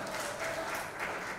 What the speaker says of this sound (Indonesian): Boleh kita berikan tepuk tangannya sekali lagi untuk beliau, luar biasa.